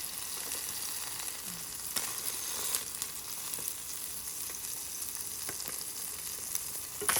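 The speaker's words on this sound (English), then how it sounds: "now we are going to just drop the fish fillets into the pan" Two salmon fillets frying in a pan, giving a steady, moderate sizzle with a few faint scrapes, no voices over it.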